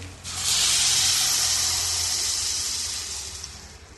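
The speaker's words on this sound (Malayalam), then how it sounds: "2 കപ്പ് വെള്ളം ഒഴിച്ചു കൊടുക്കുന്നുണ്ട്." A loud, steady hiss of two cups of water poured into a hot pan of steel-cut oats upma, bursting up quickly and tapering off slowly over several seconds, with no voices.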